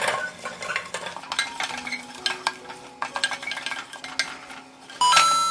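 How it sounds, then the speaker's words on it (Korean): Flour being stirred and roasted in butter in a pan for a white roux, with repeated scraping and light sizzling strokes of a utensil, fairly close and quiet, ending in a louder clatter. "동량의 밀가루를 넣어서 볶아주겠습니다"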